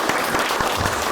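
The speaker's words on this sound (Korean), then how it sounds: "박수 한번." Brief applause from an audience at a launch ceremony for a basic income movement, a short burst of scattered hand claps close by.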